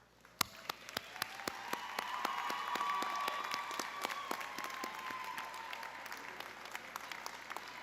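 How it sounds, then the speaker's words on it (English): Applause from the audience at a college's 45th commencement ceremony, a broad sustained round of clapping that swells and holds, with a few sharp louder claps standing out. "please stand and receive an appropriate round of applause"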